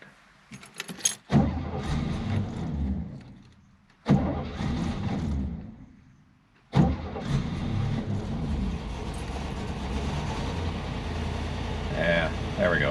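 A Corvette C2's engine cranks and briefly catches, dies, then restarts and settles into a loud, steady rumbling run close by, with people talking around it.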